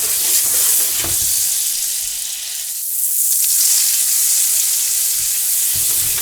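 Butter and oil sizzling steadily in a frying pan for a potato omelette with vegetables, a continuous close crackle that dips briefly midway before resuming at full strength.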